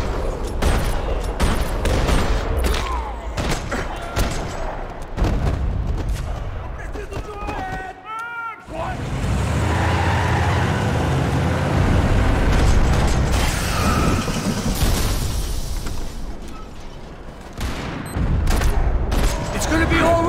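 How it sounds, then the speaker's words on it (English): Gunfire fills a parking lot in the Max Payne 3 video game, with dense, loud bursts of shots and explosions running almost continuously under game effects, and only a brief lull partway through. "Another parking lot rattling with gunfire."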